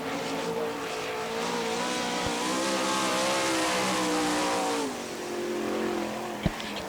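Gary Wright's No. 9 sprint car from Hooks, Texas screams around a Gibsonton, Florida dirt oval on a qualifying lap, engine roaring loud and continuous with swelling and easing pitch, a couple of sharp knocks near the end.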